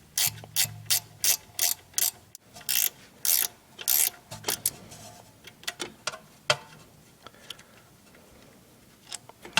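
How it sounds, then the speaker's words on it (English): A 1/4 inch ratchet works a bolt loose on a Ford Mustang Explorer rear axle, giving bursts of rapid clicking strokes separated by brief pauses, close and crisp, with no talking. "So this 1/4 inch ratchet seemed to do the trick."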